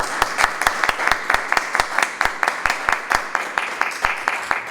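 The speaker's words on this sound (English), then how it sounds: "I think we can come up with a round of applause." A small audience gives a round of applause at a school district presentation, with steady, fairly sparse handclaps close by that carry on throughout without letting up.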